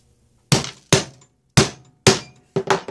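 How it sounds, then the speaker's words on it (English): A hammer strikes a metal punch to cut a hole in leather for a Viking-style bracelet, five sharp, close blows at uneven intervals, the last a quick double hit, each decaying fast into silence. "And then get your hammer."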